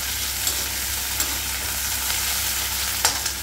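Mint and curry leaves fry in a hot pan for a samba wheat rava kitchidi, giving a steady close sizzle with a few brief stirring clatters and no voices.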